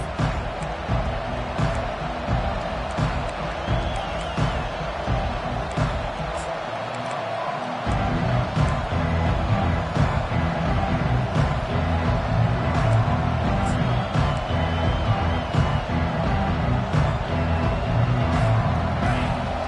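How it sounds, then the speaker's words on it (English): Large stadium crowd roaring in a continuous wash of noise in the NCAA 25 football video game, swelling louder partway through, with scattered shouts and thumps. "This crowd bringing the energy and noise early."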